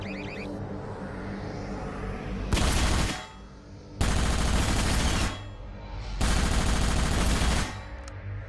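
Bursts of turret gunfire in a Half-Life Episode 1 mod, three loud, sustained volleys of rapid shots separated by short pauses over a low background rumble.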